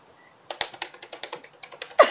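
Steady, close keyboard typing: a quick run of evenly spaced key clicks after a brief quiet start, ending on a louder clack.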